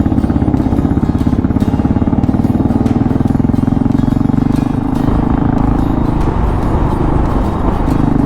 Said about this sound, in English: Oh, this KLR is going so well.